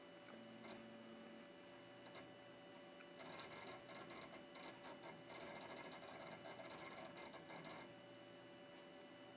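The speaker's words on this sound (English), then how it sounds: "Loud old hard drive." An old hard drive in a 1996 AT computer gives a steady mechanical whir with fast rattling clicks, growing busier and louder in the middle before settling back to a constant hum.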